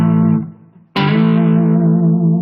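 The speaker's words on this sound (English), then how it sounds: "It's the sound of a power chord." Electric guitar power chord on the 5th and 4th strings rings out sustained with vibrato, fades briefly, then a second chord is struck hard and held loud with wavering sustain.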